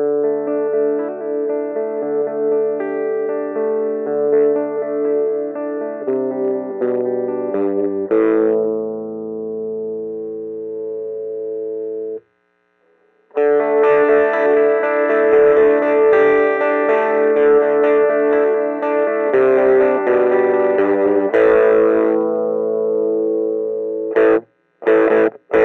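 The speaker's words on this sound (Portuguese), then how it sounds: "Abrindo o tone aumenta a distorção." An electric guitar plays through a Marshall MS2 mini amp set to overdrive distortion, with the tone knob turned from minimum upward. Loud sustained chords ring out in two long phrases separated by a brief silence, ending with short stabs.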